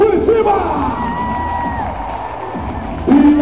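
A large audience at a Velozes e Furiosos stunt show at Beto Carreiro World roars and cheers loudly and continuously, with an announcer's shouting voice rising over the crowd near the start and end.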